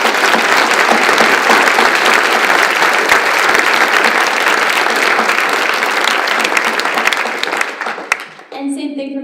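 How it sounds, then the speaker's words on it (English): Audience applause at a community event on gun violence, a dense, steady wash of clapping that stays loud for about eight seconds before tapering off, with a voice starting up at the very end. "I think we need to give her a round of applause."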